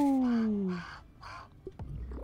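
A crow gives three harsh, loud caws in a steady rhythm in a video game, close and clear, with game effects overlapping at the start and end.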